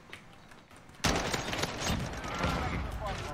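Gunfire from a slow-firing gun in Call of Duty Warzone, a dense burst of loud shots beginning abruptly and continuing steadily.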